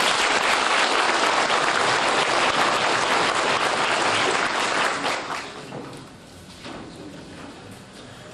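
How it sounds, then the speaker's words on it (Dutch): Audience applause at a 1990 concert, honouring three jubilarians; a dense, loud burst of clapping from a large crowd that thins and fades over the last few seconds. "Gaan we voor alle drie jubilarissen nog een applaus."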